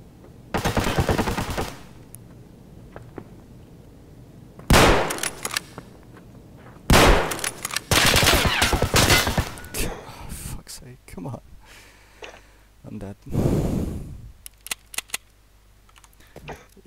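Loud shotgun blasts in a first-person shooter video game, several heavy broadband bursts spread across the clip with quieter rapid clicks and game noise between them, no talk over the shots.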